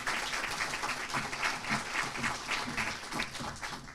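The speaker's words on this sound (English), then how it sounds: "Big hand of applause" An audience claps at a school awards ceremony, continuous, moderately loud applause with individual hand claps standing out in the mix, a brief murmur of voices underneath.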